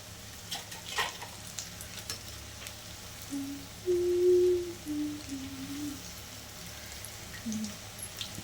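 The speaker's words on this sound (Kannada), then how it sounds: "ಸ್ವಲ್ಪ ಫ್ರೈ ಆಗಲಿ ಫ್ರೆಂಡ್ಸ್" Pakoda frying in oil, a soft steady sizzle with occasional crackles and stirring clinks, while a faint hum rises and falls midway.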